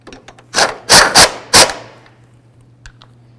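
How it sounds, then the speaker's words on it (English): A ratchet tightens the engine mount bolts on a 2007-12 Nissan Altima while a passenger side hydraulic engine mount is replaced, giving four sharp close clicking bursts in quick succession, then quiet with a faint tick. "double check those with a ratchet"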